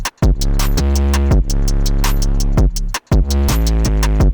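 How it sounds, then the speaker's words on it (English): Deep 808 bass notes pound inside a trap beat, sustained and booming beneath crisp hi-hats and snappy percussion, with short gaps where the low end drops out between phrases. "the 808 that sounds like this"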